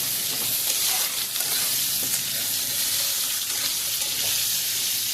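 Long-cut potato strips frying in hot oil with salt and turmeric, a constant close crackling sizzle with occasional stirring, no talk.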